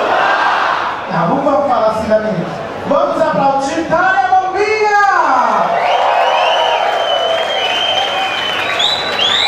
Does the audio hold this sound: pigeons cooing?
no